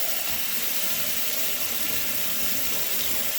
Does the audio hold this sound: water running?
yes